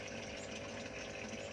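A small water pump for a pond aerator runs with a faint, steady hum and trickle of moving water, unchanging across the short stretch.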